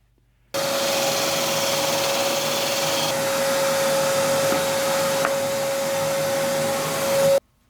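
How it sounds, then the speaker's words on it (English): Budget 3-inch hole saw on a power drill bores through a pine board with a loud, steady whining hum and gritty rasp for about seven seconds. Motor pitch stays constant, then stops abruptly. "I picked up this 3-inch diameter hole saw on Amazon"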